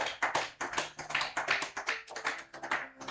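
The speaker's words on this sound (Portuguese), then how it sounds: "Alguém pode aplaudir a Ele?" A church congregation claps in quick, irregular bursts of hand slaps, fairly close and lively, with no voices over it.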